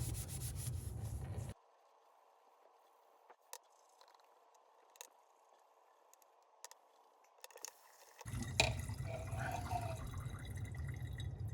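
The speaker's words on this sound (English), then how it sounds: "Nothing a good rubbing won't fix." Burnt plastic rubbed off golf clubs from a fire-damaged vehicle with steady, close scrubbing and gritty friction at the start and end. A quieter stretch in between carries a few faint clicks and drips.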